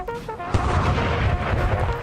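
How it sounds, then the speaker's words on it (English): Cannon fire in a multiplayer battle in the video game Napoleon: Total War with the NTW3 mod: a heavy boom lands mid-clip after lighter battle noise, followed by a rolling, rumbling roar that stays loud to the end. "cannon fire coming in"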